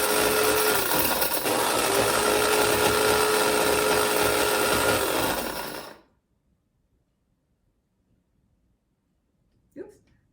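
An electric coffee grinder grinds coffee at home with a loud, harsh, continuous whir for about six seconds. It stops abruptly, leaving silence and then a brief voice.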